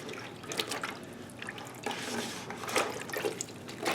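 A cartridge filter being swished through a bucket of water with filter cleaner added gives soft, irregular sloshing and dripping splashes in bursts, close and moderately quiet, with no talking.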